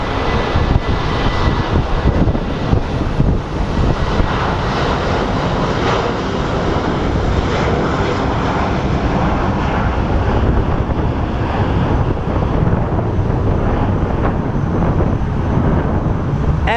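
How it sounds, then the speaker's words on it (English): An airliner taking off at Sky Harbor airport under storm clouds, a loud, steady broadband engine roar that holds for the whole stretch with some wind buffeting, no voices. "Taking off into the storm clouds."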